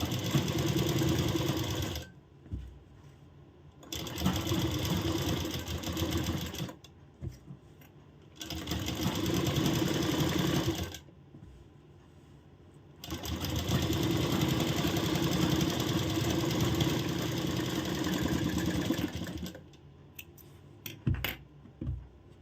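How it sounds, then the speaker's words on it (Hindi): Sewing machine stitching the reverse side of a princess-cut blouse seam, running in several long loud bursts separated by short pauses, close up with steady mechanical whirring. "और पहले एक सिलाई लगा लेना उल्टे साइड"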